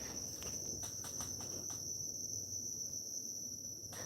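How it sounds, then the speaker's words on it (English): A cricket chirps steadily somewhere in the background near a garage where a 1961 car floor pan is being worked on, a persistent high trill with faint pulsing, no talking. "It's a cricket back there somewhere."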